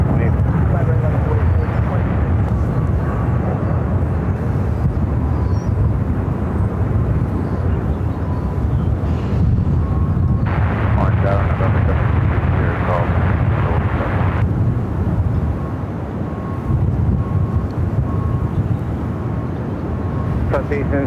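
An airliner takes off from runway 25 right at Phoenix Sky Harbor, a loud sustained jet roar rumbling low and steady throughout, swelling near the middle, with radio chatter from the tower over it.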